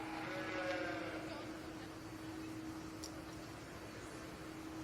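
A sheep at a county livestock show gives a soft, fairly distant bleat near the start, faint beneath a steady hum of hall noise and fans.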